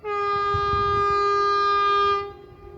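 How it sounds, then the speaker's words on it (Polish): An ED250 electric express train sounds a long, steady multi-tone horn as it arrives at the station in Goczałkowice-Zdrój, loud and close, cutting off sharply near the end over a low rumble of passing cars. "I nadjeżdża już dziobaczysko. ED250, znany również jako dziobak."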